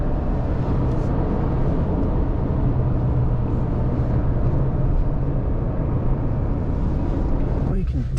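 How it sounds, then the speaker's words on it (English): Steady, loud tire roar and road noise fill the cabin of a lifted 2021 Subaru Crosstrek Sport 2.5 as it drives through turns, continuous with no talking. "Definitely hear the tires."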